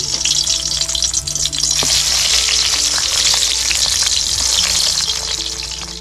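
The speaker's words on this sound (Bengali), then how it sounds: "আমার সামনে এখন বেগুন ভাজা চলছে।" Eggplant (brinjal) slices frying in oil in a pan for a camp meal of khichuri, a loud, steady, close-up sizzle with crackling spits throughout and no talking.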